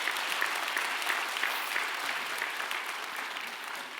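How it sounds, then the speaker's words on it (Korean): A church congregation breaks into steady, dense applause for the male choir conductor during a Sunday worship service, a broad continuous wash of clapping that holds even and full for several seconds. "우리 저 박수 한번 해요"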